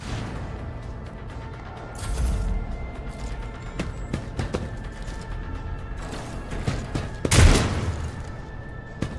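Gunfire in the turn-based video game Warhammer 40,000: Rogue Trader: a burst of booming shots with a loud crash near the end, over a low, steady game ambience.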